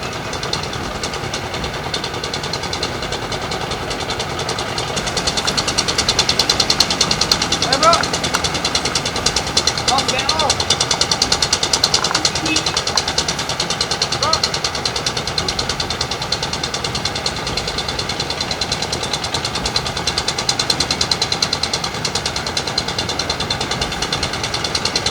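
Machinery engine running at a tin mining site in Bangka Belitung, a steady loud droning hum with constant vibration, continuous and unbroken, with some voices faintly present in the background.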